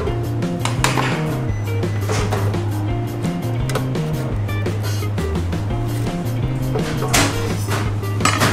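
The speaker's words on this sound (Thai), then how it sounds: "ไปรีดน้ำมันออกมาหั่นในนี้ก่อนดีกว่า" Fried Chinese sausage being cut on a board after its oil is squeezed out, with repeated sharp knife taps and clinks of utensils against cookware, close and irregular over a low steady hum.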